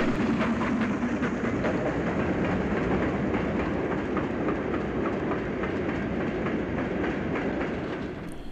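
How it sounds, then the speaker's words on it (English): A Class 5 steam locomotive hauls a long parcels train of short wheelbase goods vans and purpose-built parcels stock northbound in North West England, giving a steady, loud rolling roar with rhythmic clickety-clack of wheels throughout, easing slightly at the end. "a Class 5 heads north with a lengthy parcels train, including short wheelbase goods vans as well as purpose-built parcels stock."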